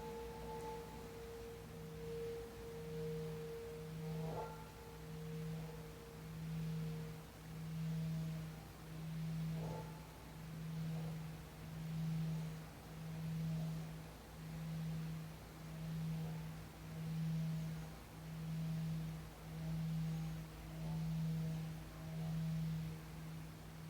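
A singing bowl rings with a steady low hum that pulses in slow, even waves, with fainter higher tones fading in and out early on.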